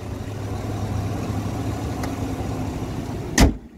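A 2020 Chevrolet Silverado LT Extra Cab with a 5.3-liter engine idles quietly in a low, steady hum. A single brief knock or thump sounds just before the end.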